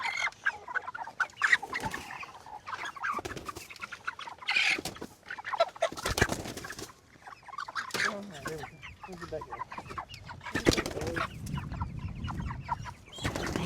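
Young chickens from a brooder cluck and chirp softly across a busy farm setting, with people talking intermittently over the scattered bird calls and handling noise.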